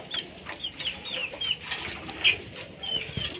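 Young Malaysian Serama cockerel chicks peep in short, high chirps scattered throughout, with soft rustling and background noise in between.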